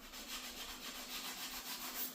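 Sandpaper rubs back and forth on a project car body part, soft rhythmic strokes repeating steadily, close but quiet.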